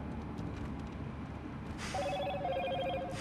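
Telephone ringing with a repeated electronic ring tone that starts partway through, faint under a steady background hiss, with no talking.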